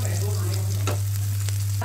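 Crushed ginger, green chili and garlic fry in a pan with a dense, steady crackling sizzle over a constant low hum, with no voices.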